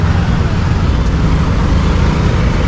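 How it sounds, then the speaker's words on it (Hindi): Congested street traffic in Dimapur, Nagaland, with close, continuous engine noise from cars, buses and trucks forming a thick, unbroken roar across the whole stretch. "देखिए भाई साहब कितना ट्रैफिक है दिमापुर में."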